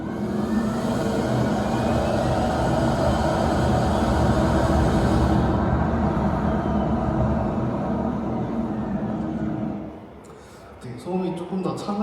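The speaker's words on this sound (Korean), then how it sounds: "다음은 D 올류 넥소의 개선된 가속 소음입니다." Second-generation Hyundai Nexo hydrogen fuel-cell car accelerating, heard as a sustained, even roar with a somewhat softer, calmer character that gradually dies down, after which a person starts talking.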